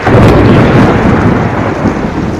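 Heavy rain pours in Maceió's Rio Novo neighborhood as thunder rolls through in one loud, sustained rumble over the constant hiss of the downpour, with no voices.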